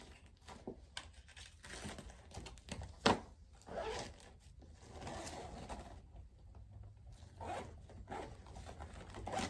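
A zipper is pulled shut on a child's school bookbag, close and quiet, in several short rasping strokes with rustling and handling noises around them.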